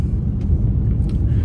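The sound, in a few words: Maruti Alto 800 car driving in fifth gear on highway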